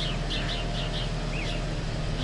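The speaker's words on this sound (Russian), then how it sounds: "У нас так клево, птицы поют." Small birds chirp in short repeated bursts over a steady low car engine hum, the calls fairly faint against the constant drone.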